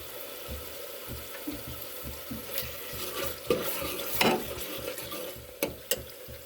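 Stirring and sizzling of mutton korma frying in a pan as slit green chillies go in, with soft scraping strokes and a few sharper clinks, fairly quiet and close with no talk.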